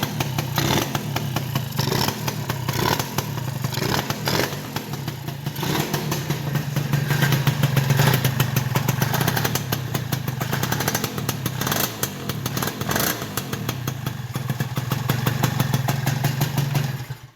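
Honda Elite scooter engine running loudly up close just after a new stator install, a continuous buzzing idle with throttle blips and revs rising and falling throughout.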